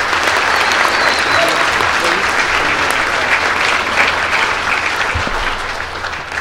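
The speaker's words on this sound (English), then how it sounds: "Please give them another round of applause." Loud, steady applause from a crowd at a high school Rube Goldberg competition fills the room for referees, judges and scorekeepers, tapering near the end, with a low hum underneath.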